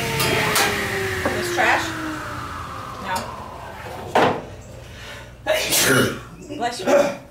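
A person sneezes sharply indoors amid clattering objects and talk, followed by other people speaking.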